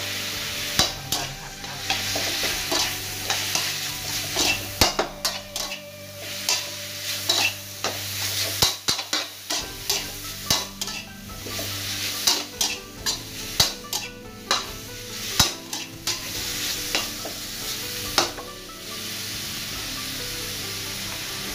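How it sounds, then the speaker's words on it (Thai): Pork belly stir-fried in a pan with thinly sliced lemongrass, crisp sizzling and frying throughout with repeated scraping strokes of a utensil against the pan, close and steady, no talking. "ขั้นตอนนี้นะครับเพื่อนเราก็ใส่ตะไคร้ลงไปเลยนะ"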